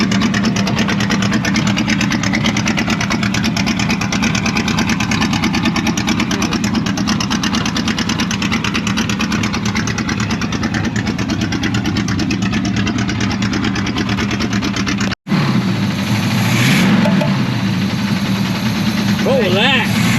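The engine of an abandoned 1984 Chevrolet Monte Carlo race car idles loud and close with a steady, rough rumble and a little top-end noise, cuts out abruptly near the end, and a voice then speaks briefly.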